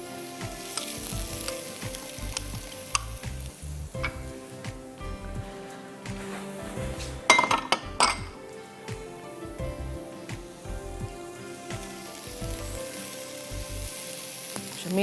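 Onion, ginger and garlic sizzling in hot oil in a pan for a cream spinach dish, a steady crackling fry with occasional stirring clatter, close and fairly quiet, with no talking.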